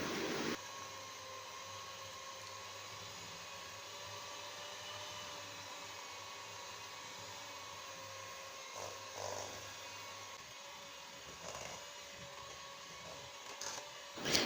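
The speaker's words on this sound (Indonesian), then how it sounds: "Mixer dengan kecepatan rendah." Electric hand mixer running steadily on low speed, creaming margarine with powdered sugar for cat-tongue cookies; a continuous motor whir with faint bumps of the beaters against the bowl.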